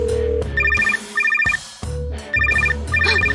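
A phone rings in repeated bursts of a bright electronic trill, two pairs of rings separated by pauses, over a low background hum.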